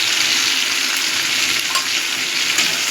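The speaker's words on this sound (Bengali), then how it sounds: "এবার হলুদটা দিয়ে আমি আবার কিছুক্ষণ নাড়াচাড়া দেবো" Vegetables with turmeric frying and being stirred in a pan for a Bengali vegetarian pachan tarkari, a steady close hiss of sizzling oil throughout with no speech.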